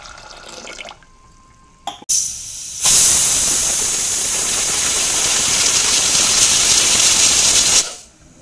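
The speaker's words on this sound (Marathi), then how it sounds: "कुकर मधनं एक शिट्टी काढून घेऊया याची" A pressure cooker of val beans lets out a single long, loud whistle of hissing steam, holding steady for about five seconds before cutting off, after a few brief clicks and a short burst.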